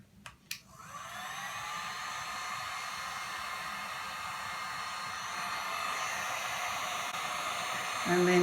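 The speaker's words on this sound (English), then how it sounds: "Give the heat gun a little bit of time to warm up." A heat gun warming up for melting embossing powder gives a steady, close blowing hiss after a couple of clicks as it switches on, then shifts slightly louder near the end.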